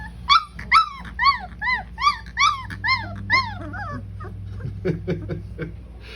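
Newborn orphaned puppies, about a week old, whimpering close by in a run of rising and falling squeals that thin into short, fainter yips.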